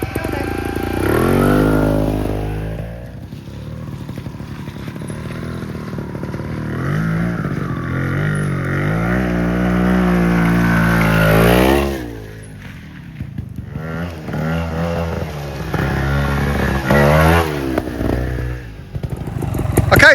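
A trials motorcycle ridden off-road, its engine revving and rising and falling in pitch through repeated throttle bursts, fairly close and loud, with a brief dip in the middle.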